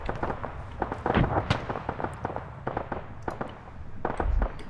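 A grenade blast in the military shooter ArmA: a burst of sharp cracks and bangs over scattered gunfire and movement noise, moderately loud, one heavier thump near the start and more pops after it.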